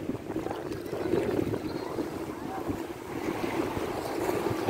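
Sea waves roll onto a beach at a swimming spot, a steady wash of surf mixed with wind buffeting the microphone, continuous and fairly close, with no clear talking.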